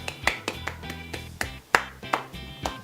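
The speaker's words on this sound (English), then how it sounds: "Nobody's clapping with me." Hands clap in an irregular, sparse rhythm, about a dozen sharp close claps spread over a few seconds, with no other sounds.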